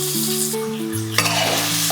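Small chopped onion pieces go into hot oil for a prawn curry, giving a steady frying hiss with stirring. Sustained tonal notes run underneath, and the sizzle grows livelier in the second half.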